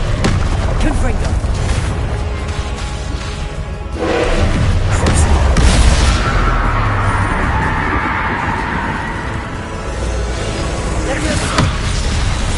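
A Confringo blasting spell explodes in Hogwarts Legacy, loud booming bursts with rumbling low end amid dense game noise, one heavy blast swelling near the middle and another sharp hit near the end.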